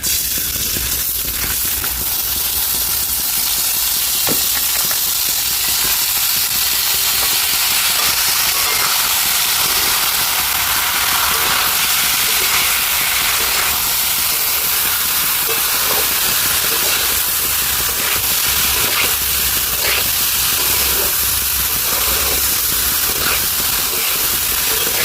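Rice fries in ghee in a kadai, giving a loud, continuous sizzling hiss that holds steady throughout with no talk over it.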